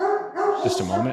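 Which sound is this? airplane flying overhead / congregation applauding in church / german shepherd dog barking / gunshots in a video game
german shepherd dog barking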